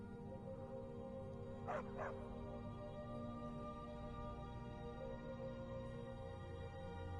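A dog in the Skyrim video game lets out two quick, close barks in a row against a constant low hum of game ambience, then stays quiet for the rest of the stretch.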